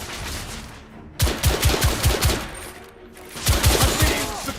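Gunfire from the video game The Order: 1886 comes in two heavy bursts of repeated close, loud shots, with a short lull between them and shouted voices underneath.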